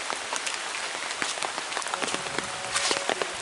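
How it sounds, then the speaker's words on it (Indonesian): Steady rain patters on surfaces in a hilly mountain village in Sragen, Central Java, a dense constant hiss with scattered louder drops close by. "Suasana hujan seperti ini di daerah pegunungan"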